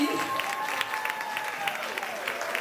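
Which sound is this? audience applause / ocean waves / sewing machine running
audience applause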